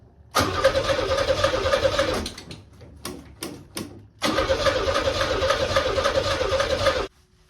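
A Pontiac Fiero parts car engine cold-starts twice: the starter cranks and the engine catches into a loud, rough run, cuts out amid a few clanks, then fires again and idles steadily before shutting off.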